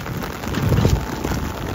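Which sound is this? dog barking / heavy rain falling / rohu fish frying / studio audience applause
heavy rain falling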